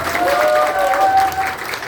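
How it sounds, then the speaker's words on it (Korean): A crowd at a Rebuilding Korea Party town hall in Daejeon's Yuseong cultural center claps steadily, a brief dense patter of applause with a few tonal voices and whistles mixed in. "박수 쳐주세요."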